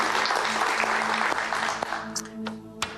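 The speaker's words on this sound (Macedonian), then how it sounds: "Па тогаш аплауз." Applause from a room full of people rings out steadily, then thins toward the end with a few scattered claps and faint voices underneath.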